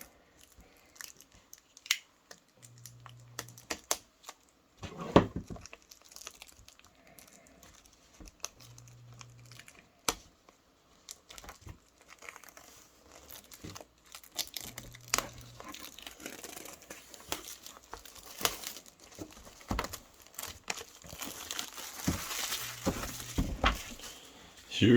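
Plastic wrap being torn and peeled off a boxed collector's set with a matte black finish: close, irregular crinkling and ripping bursts scattered throughout, growing busier and louder toward the end.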